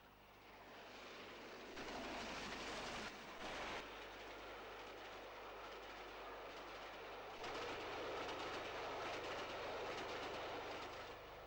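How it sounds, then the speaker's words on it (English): An LNER A3 Pacific steam locomotive hauls a very mixed train of LMS, LNER and BR coaches south toward York. It passes close and loud as a steady roar with rolling, rumbling coaches, surging louder near the end, with no voices. "Working a very mixed train of LMS, LNER and BR coaches, this A3 Pacific heads south to York."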